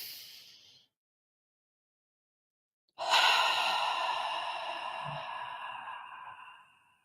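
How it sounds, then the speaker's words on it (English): Deep breathing, in through the nose and out through the mouth: a short nasal inhale, a pause of about two seconds, then a long, close, audible exhale through the mouth that slowly fades. "breathe in through your nose and then breathe out through your mouth and activate your stomach muscles to help with that deep breathing"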